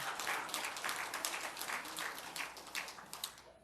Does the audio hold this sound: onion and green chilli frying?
no